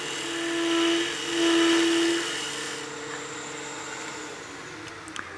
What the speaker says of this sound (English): You can see those shavings we're getting off the planing cut